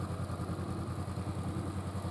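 A motorcycle engine turns over steadily at low speed during A2 riding training, an even, continuous low rumble with a fine rhythmic pulse, unbroken and moderately close, with no talk.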